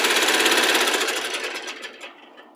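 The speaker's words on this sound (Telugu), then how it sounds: "ఒక స్టిచ్ అనేది వేసుకోవాలి." A sewing machine stitches cloth nearby in a fast, even mechanical whirr, holding steady and then slowing and fading out as the run ends.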